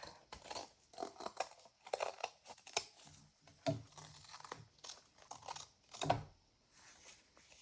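Scissors cutting off the spine of a handmade fall junk journal, a series of close, quiet crisp snips and paper crinkles in an irregular rhythm.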